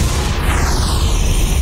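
A loud, sustained explosion boom in the video game Bioshock, with a rumbling low end and a descending whistling tone sweeping down over it, with no voices.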